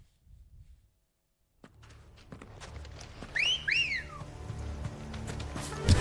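A character in the game Final Fantasy XVI whistles two short rising-and-falling notes, faint and clear over soft hoof clip-clop and footsteps after a brief silence.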